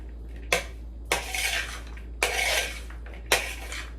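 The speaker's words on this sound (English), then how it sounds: "You're going to want to mix this up really well." A spoon stirs salsa with red onion in a bowl, giving four distinct clinks followed by scraping strokes over a low steady hum, with no talking.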